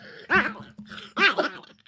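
A small lap dog gives two sharp, close barks with whiny yips, separated by a brief low growl, with no talking.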